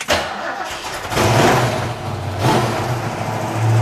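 A Ford Mustang engine heard from close by, running with a deep rumble that swells as it revs, eases off, then rises again, loud and without talk.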